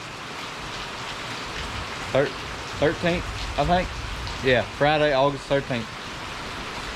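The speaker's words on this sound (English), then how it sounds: "I don't know if you can hear that or not in the background, but that is rain." Steady rain falls outside on an August evening as a continuous soft hiss, with someone talking briefly over it.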